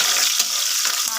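Sliced onions frying in a pan for Andhra-style egg biryani, a steady bright sizzle with faint stirring scrapes running continuously at close range, no talking.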